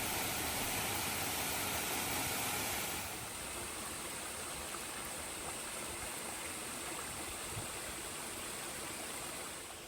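A waterfall in Yushien Garden, Japan, gives a constant, even roar of falling water, heard from a distance and somewhat quiet, with no voices.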